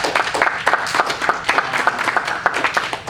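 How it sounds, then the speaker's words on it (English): An audience at a convention panel applauds, a brief burst of dense, lively clapping heard alone without talk. "So give yourselves a round of applause."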